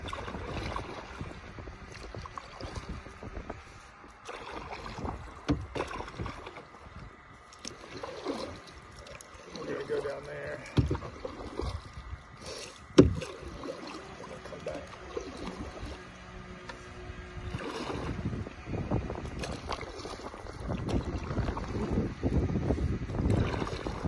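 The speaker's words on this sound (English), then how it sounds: "Our first canoe trip." Canoe out on open water in New York, low wind buffeting and faint water movement with scattered bumps and knocks, growing louder toward the end, no speech.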